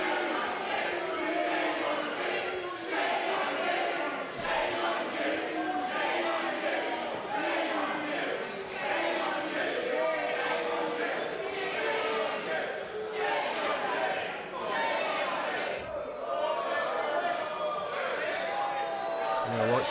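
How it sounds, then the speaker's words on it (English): House of Commons MPs boo and shout in a loud, continuous crowd roar, many voices overlapping in jeering cries that rise and fall throughout without pause. "This is MPs booing and shouting, shame on you, Conservative MPs who leave the Commons chamber."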